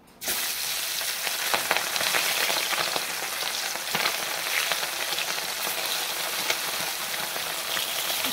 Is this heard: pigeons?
no